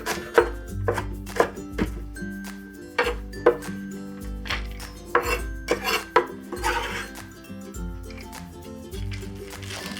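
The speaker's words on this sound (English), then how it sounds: "We just rough chop." A knife rough-chops whole cilantro sprigs, stems and leaves together, on a cutting board, a series of crisp, irregular knocks and clacks in quick bursts, some louder than others, with a faint background tone.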